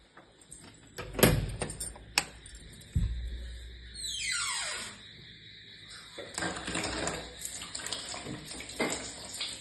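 Running tap water with splashing and a few knocks as someone washes their feet at a sink or bathroom tap indoors, fairly close, with a brief rushing pour midway.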